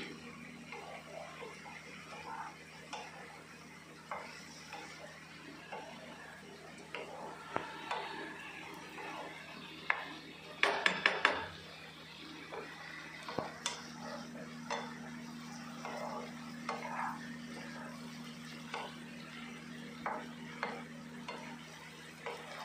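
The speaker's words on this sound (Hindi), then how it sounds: "और एक टीस्पून हम कश्मीरी मिर्ची ऐड करेंगे, और इसको बढ़िया से हम सौते करेंगे।" Poha with Kashmiri chilli gets sautéed in a pan, heard as soft scraping and stirring strokes with light sizzling, plus a brief cluster of louder utensil clinks partway through.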